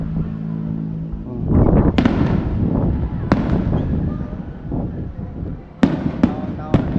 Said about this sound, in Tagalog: Ganda ng fireworks eh.